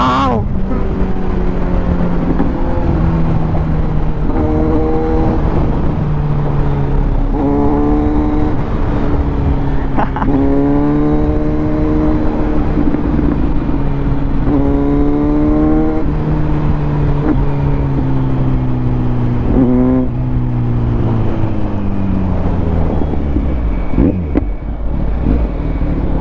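A 2024 Kawasaki Z900 motorcycle rides at speed, its engine droning loud and steady throughout with rising and falling pitch sweeps as it revs through the gears, easing off near the end.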